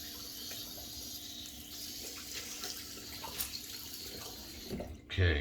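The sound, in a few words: rinsing washcloth under cold water tap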